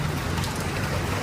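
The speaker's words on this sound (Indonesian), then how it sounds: "Dan cuacanya masih hujan dan mendung kayak gini guys." Rain falls on a cloudy midday as a dense, continuous, even hiss of patter that stays at a constant level throughout.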